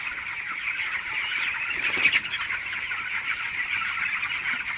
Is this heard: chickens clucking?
yes